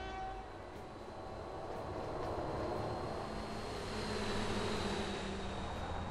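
Diesel locomotives running in the railway simulation game Train Fever, a continuous rolling rumble of trains passing with a sustained horn-like tone, steady and moderately loud.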